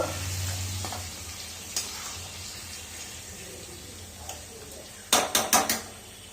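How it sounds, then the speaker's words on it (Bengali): Chicken biryani with marinated chicken in a cooking pot gets a few faint scrapes amid steady low hiss and hum, then a quick burst of three or four louder clattering stirs near the end. "আমি এবার ভালো করে একটু নাড়িয়ে দেবো"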